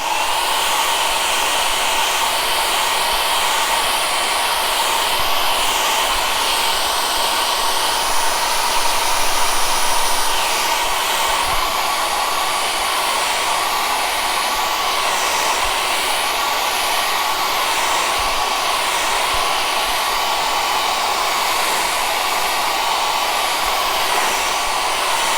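A hair dryer blows steadily and loudly on a watercolor winter town painting to dry it before peeling masking fluid, a continuous whooshing roar held unbroken throughout with no talking.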